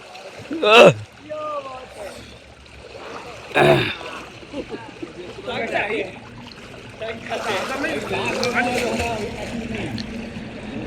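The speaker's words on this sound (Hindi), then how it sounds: "ये देखिए, ऐ सब पूरा पानी बाहर हो गया" Water sloshing and splashing over the edge of a resort swimming pool as a crowd of adults and children enjoy the water, loud bursts of splashing recurring amid steady outdoor voices and chatter.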